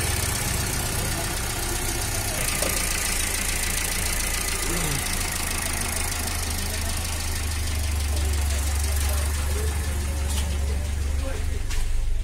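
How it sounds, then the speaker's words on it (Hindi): A Hyundai i10 with a Kappa 2 engine, set up for CNG and petrol and suffering an idle problem, runs steadily just after starting, a constant close rumble with a faint rattly knock throughout. "फ्रेंड फाइनली गाड़ी स्टार्ट हो गई"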